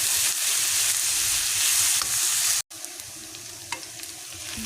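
Onions stirred as they fry in a pan, a steady bright sizzle with soft scraping strokes running close and continuous, broken by one brief silent gap before the crackle resumes.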